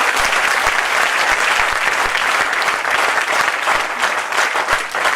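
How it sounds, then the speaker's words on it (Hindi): A crowd at a live direct-selling training session breaks into loud, steady applause that holds at full strength for the whole stretch, a dense wash of many hands with no talking over it. "एक जोरदार ताली चाहूंगी मैं आप लोगों को।"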